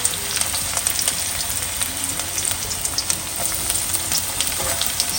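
Cumin seeds, garlic and red chilies crackle and sizzle steadily in hot oil, a dense close frying hiss with scattered sharp pops throughout, no voices.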